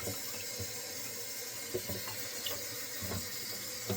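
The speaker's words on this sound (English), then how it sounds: "now we're going to add water to our jar." Water runs steadily into a jar while making a marshmallow leaf soap experiment, a continuous faucet-like pour with small splashes, close and moderately quiet, with no talking.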